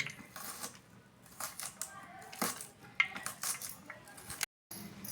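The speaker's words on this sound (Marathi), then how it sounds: "बारीक बारीक कांदा चिरून घ्यायचा" Onion being finely chopped with a knife on a board, a quick irregular series of sharp close taps and cuts with short pauses between bursts.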